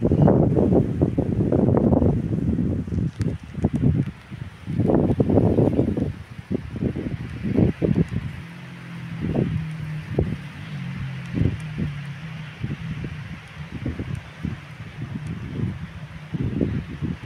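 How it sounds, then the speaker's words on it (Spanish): Strong, gusty wind outdoors around a garden plant, buffeting the microphone in loud rumbling bursts early on, then easing to a lower, steadier rush with intermittent gusts. "Es un día de mucho viento"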